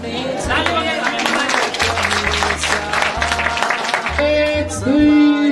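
Wedding guests at a church ceremony break into sustained, dense applause right after the couple is declared husband and wife, with a voice speaking over the clapping.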